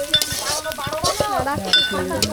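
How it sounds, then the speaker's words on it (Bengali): Spices sizzle and crackle as they are poured into hot oil during outdoor village cooking, with stirring and scraping clatter over a steady frying hiss. "আমরা এখন গরম তেলের মধ্যে মশলা ঢেলে দিচ্ছি।"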